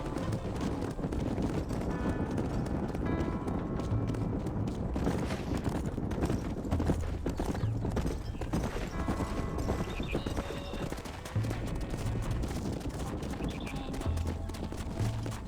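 Horses trot in the Red Dead Redemption video game, their hooves clip-clopping in a quick, continuous rhythm. A whinny rises briefly among the hoofbeats over soft wind.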